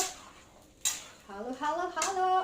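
Adobong peanuts are stirred in a pan, with a couple of sharp metallic clanks against the pan and a voice humming or speaking briefly underneath, all close by.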